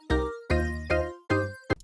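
Serum 2 synth bass played as four sustained notes with a short fifth stab, rich harmonics swelling and fading as an LFO-driven filter moves, loud and alone with no voices.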